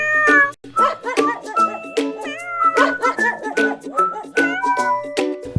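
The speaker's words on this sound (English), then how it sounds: "This week we have a beautiful cat" A domestic shorthair cat meows insistently and close up, a rapid series of varied, drawn-out cries with barely a pause between them.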